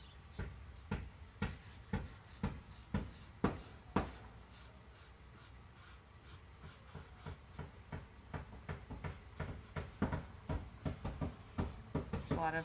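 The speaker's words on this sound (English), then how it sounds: "Neighbors hammering away." Repeated sharp knocks and taps at an uneven pace, moderately close, like hammering on wood, with a steady background hum and no talking.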